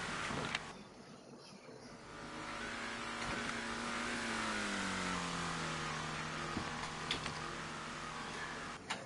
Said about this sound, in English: And here comes a pace car.